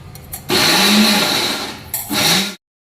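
A mixer grinder whirs loudly as it grinds a cooled mixture into flour for ladoo, running in two close bursts with a short dip between them before stopping abruptly.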